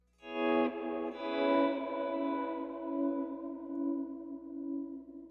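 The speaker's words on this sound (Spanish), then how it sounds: "tengo por acá abajo una guitarra que hace un efecto aquí bastante interesante" A clean electric guitar chord rings out and sustains with a swirling, chorus-like modulation and a touch of echo, fading slowly with no talking.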